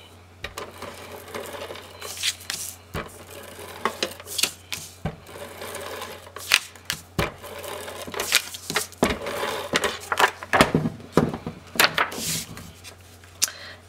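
Tape runner pressed along the liner of a small pocket-page album cover, giving repeated short clicks and rasping strokes at close range in quick irregular bursts, with no talking.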